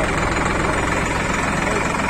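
An INDOFARM tractor with Apollo rear tyres idles close by, its engine giving a dense, steady low chugging throb that holds throughout, with someone talking over it.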